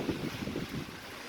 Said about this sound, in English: It is getting windy out here, and it is starting to rain heavier.